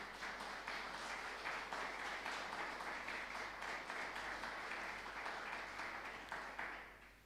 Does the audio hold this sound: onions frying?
no